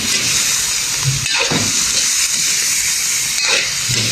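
Vegetables for chop suey hiss and sizzle loudly in a hot pan, with occasional soft scraping strokes as they are stirred, a continuous close steamy frying sound without talk.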